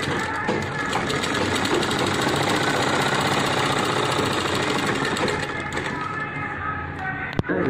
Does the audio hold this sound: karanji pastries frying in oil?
no